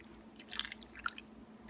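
Liquid poured over a brisket in a slow cooker, a soft, quiet trickle with a few faint wet drips and splashes over a low background hum.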